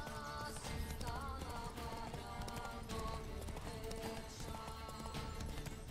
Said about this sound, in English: I stole a horse!